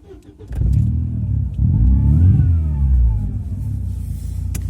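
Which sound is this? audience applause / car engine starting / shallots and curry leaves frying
car engine starting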